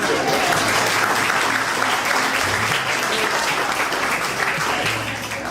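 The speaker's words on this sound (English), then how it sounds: "I want you to clap right now." An audience in a room at a picnic fundraiser claps steadily, a dense, loud wash of applause throughout with no pauses.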